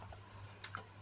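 A few quick, light keystrokes on a laptop keyboard as search text is typed, two or three soft close taps in under a second over a low steady hum.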